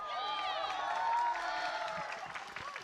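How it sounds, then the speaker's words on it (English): A crowd at a Valorant esports watch party applauds and cheers steadily, a dense wash of clapping and shouting with voices talking over it. "What are we clapping for?"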